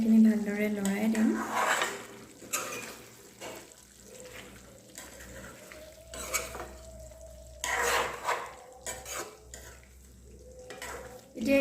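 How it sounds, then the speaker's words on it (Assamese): Local chicken curry being stirred in a pot, with scraping and clattering strokes and a soft sizzle recurring across the stretch, interrupted by bursts of talk. "এখন উদঙাই এইখিনি ভালদৰে লৰাই দিম।"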